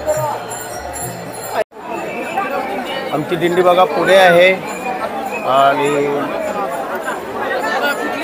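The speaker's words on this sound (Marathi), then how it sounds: "बघा किती गर्दी आहे बघा" Dense chatter of a huge crowd of Warkari pilgrims at Pandharpur on Ashadhi Ekadashi, a continuous loud outdoor hubbub of many voices with a close voice speaking over it and a brief dropout near the start.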